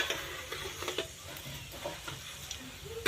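Cumin seeds sizzling in hot oil in a pan, a faint crackling fry with soft scattered pops and light stirring scrapes, close and low in level.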